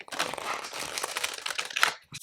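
A tarot deck being shuffled by hand, with a dense run of papery crinkling and riffling card noise at close range that carries on steadily and ends with a brief sharper flick near the finish.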